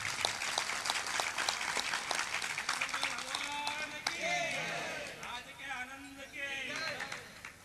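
Audience applause at a Hindi devotional discourse, a brisk patter of many hands clapping loudly in the opening seconds, then fading as a voice speaks over it.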